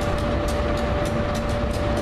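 Amtrak locomotive unit 42 at 30th Street station in Philadelphia idles with a steady mechanical hum and a rhythmic ticking, loud and continuous, with no talking.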